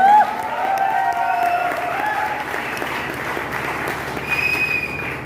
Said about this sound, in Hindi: जोरदार ताली हमारे विजय भाई के लिए होनी चाहिए